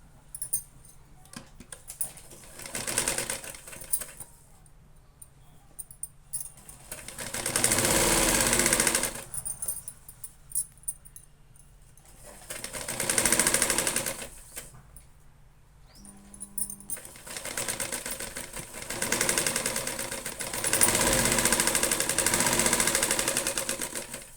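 A sewing machine stitches a kitchen apron in several bursts of rapid, loud mechanical whirring, separated by short pauses and light handling clicks.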